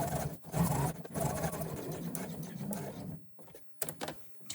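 A sewing machine back stitching along the side seam of a crossbody bag, a close, steady mechanical run that halts briefly a few times and picks up again.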